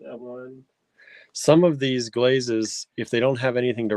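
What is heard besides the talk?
None of the usual background noises is heard.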